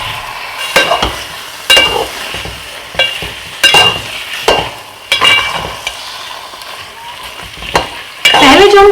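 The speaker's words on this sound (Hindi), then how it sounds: "गाजर को फिर इस तरीके से कंटिन्यू मिक्स करना है।" Carrot halwa with melted khoya being stirred in a pot: repeated scraping strokes of a spoon against the pan at an uneven rhythm, over a soft sizzle, close and moderately loud.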